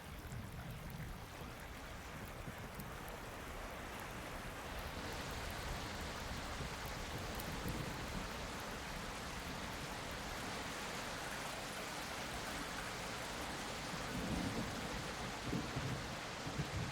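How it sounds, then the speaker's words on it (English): Steady rain in the survival video game Project Castaway, a continuous dense hiss with a low rumble underneath, constant and enveloping throughout with no talk. "Raining. What am I supposed to do? It's rainy."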